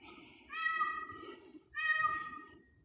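A pet cat meows twice up close, two drawn-out, clear calls about a second apart.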